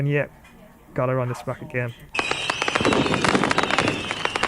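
Fireworks burst for a New Year celebration, a dense run of crackling bangs and fizzing sparkle that follows a short stretch of someone talking.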